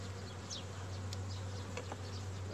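Honeybees at a hive used as a queen-rearing nucleus hum in a steady, even drone throughout, with a few single insects zipping close by.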